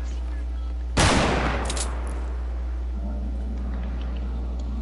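A sniper rifle fires once in a video game, a loud sharp crack that rolls off into a fading echo over a steady low hum, followed by quieter game ambience.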